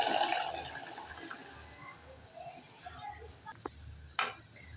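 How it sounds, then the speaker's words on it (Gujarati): Dal lentils tipped into hot water with a little oil in a pressure cooker pot give a steady watery rush and churning, ending in a brief sharper splash near the close. "હવે તેમાં આપણી દાળ એડ કરી દઈએ"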